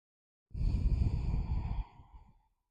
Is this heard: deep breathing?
yes